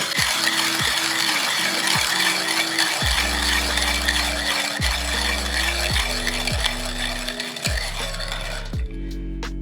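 A Timemore ESP hand coffee grinder crushes 20 grams of coffee beans with a steady, loud, close grinding rattle and repeated low ratcheting strokes as the handle is cranked, continuing almost throughout before stopping near the end.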